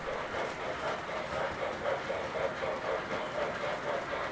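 MTH model trains run steadily with a dense, continuous rumble and faint rhythmic rail clatter, moderately quiet and unchanging, with no clear voices.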